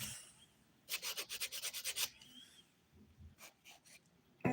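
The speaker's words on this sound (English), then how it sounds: "which we'll remove with a hand file in a minute" A 100-grit hand file scrapes dip powder off the skin around a nail in a quick run of about nine close, rasping strokes, followed by a few softer, sparser passes and one last sharp scrape.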